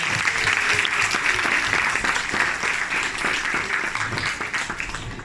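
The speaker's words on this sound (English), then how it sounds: "can we please give Sadhana another round of applause?" Audience at a women's forum cancer awareness program applauds a speaker, a full, steady round of clapping from many hands with faint room murmur underneath, holding level throughout.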